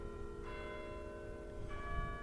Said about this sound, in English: The chimes were ringing the 11:03 at that moment.